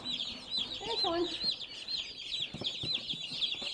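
A group of Cornish cross meat chicks, fresh from the hatchery, keep up a chorus of rapid high peeping and chirping, with a few lower clucks, all fairly faint.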